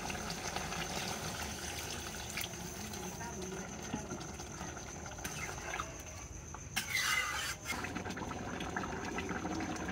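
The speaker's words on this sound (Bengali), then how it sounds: "লাউটা কষানো হয়ে গেছে, এবার সিদ্ধ করার জন্য দিয়ে দিব পানি" Water is poured into a pot of curry with sautéed bottle gourd, set to boil for an ilish fish dish. A brief splashy pour rises near the end over steady kitchen background noise with faint voices.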